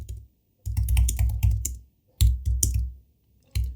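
Rapid typing on a computer keyboard in bursts of close, clicky keystrokes separated by short pauses, with no talk.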